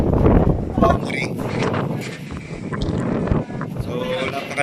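Strong coastal wind at Nasugbu in the Philippines buffets the microphone in loud, uneven gusts, with a voice talking over the rumble for much of the clip.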